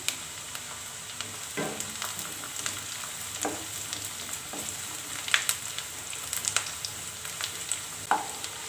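Halved garlic frying with onions in a pan for an okra tamarind curry, a steady close sizzle broken by repeated scrapes and knocks of stirring, with no talking.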